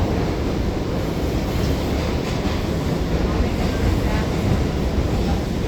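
Steady broadband rumble and rattle inside a nearly empty train car on a night ride home, continuous and fairly loud throughout, with faint background chatter mixed in.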